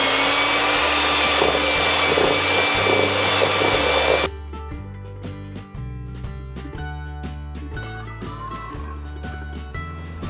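An electric mixer beats butter, margarine and sugar into cupcake batter, a loud continuous motor whine lasting about four seconds and then cutting off, followed by quieter intermittent clatter.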